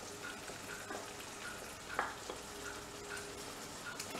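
Mango chutney stirred into simmering chicken tikka masala in a pan gives a soft, steady sizzle and bubbling, with a single brief scrape partway through.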